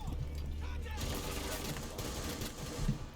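Gunfire in the video game Rainbow Six Siege during a T-Hunt match: a dense, continuous burst of rapid shots over game ambience, loud throughout the short stretch.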